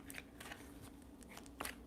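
Tarot cards shuffled by hand in a few soft, papery riffling bursts, close and quiet, the last burst a little louder.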